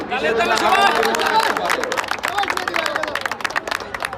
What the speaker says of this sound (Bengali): আমি বলবো তার জন্য সবাই একটা করতালি দেবেন।